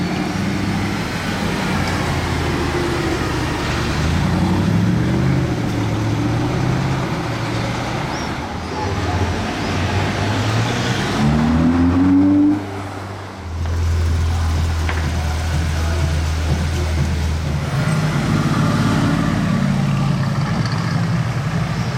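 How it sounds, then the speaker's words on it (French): A Mercedes SLS with a loud modified exhaust arrives amid street traffic, its engine rumbling closer, with a rising rev sweep and then a steady low idle drone. "il y a une SLS qui arrive"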